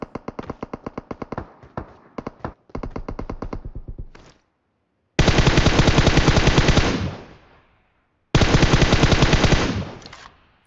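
Automatic weapon fire in PUBG, several loud rapid bursts separated by short pauses, then two long sustained strings of fire, heard alone.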